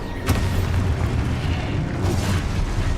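Explosive spell blast in Hogwarts Legacy, a loud booming burst near the start followed by rumbling, crackling combat noise that fills the short stretch.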